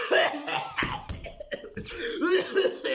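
A few sharp coughs close up, mixed with a little laughter and breathy throat noise.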